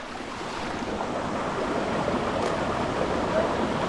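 Koodlutheertha waterfall pours in a steady, broad rushing roar that holds constant and fairly loud throughout, with no voices.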